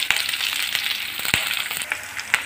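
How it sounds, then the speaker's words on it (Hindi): Green chilies and cumin seeds frying in hot oil in a pan for torai sabji, a soft steady sizzle broken by a few sharp crackles and pops, close and alone. "मिर्च डाल करके इसको अच्छे से भून लेंगे"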